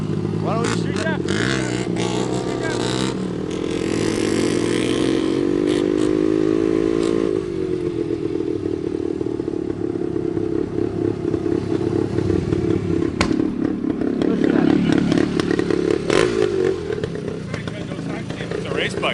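A 1972 Yamaha RT2 360 race bike engine revs hard, its tone climbing for several seconds before dropping back to a rough, rattling idle with throttle blips, loud and close, while people talk over it.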